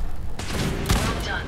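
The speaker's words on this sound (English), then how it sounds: "Really, you're firing at us with these little small arms." Small arms gunfire in Fallout 4: a quick burst of loud, sharp shots close by, with a second crack shortly after, while players talk over the fire.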